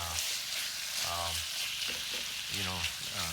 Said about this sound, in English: So I add the meat, and now I'm just gonna wait till it's fully cooked.